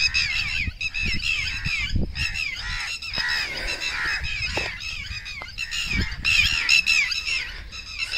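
A flock of birds squawking and honking together during a violent rainstorm in Punjab, loud, dense and continuous, with overlapping harsh calls close by and rumbling low noise beneath.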